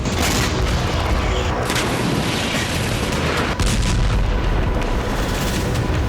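Heavy blasts and booming from the Israeli air force bombing of southern Beirut, a dense, loud, continuous roar of explosions and rumbling with sharper cracks, with no audible speech.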